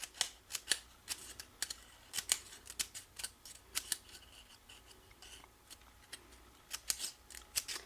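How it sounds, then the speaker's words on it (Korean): Scissors cut folded paper into strips about 1 cm wide, making a close, quiet series of crisp snips in an uneven rhythm, often in quick pairs, with no one talking. "넓은 쪽을 이렇게 이것으로 이렇게 적당하게 한 1cm 정도씩만 이렇게 잘라 주시면 되겠습니다."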